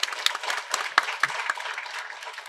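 Applause from an audience, a dense patter of clapping hands with a few sharper claps standing out, steady throughout.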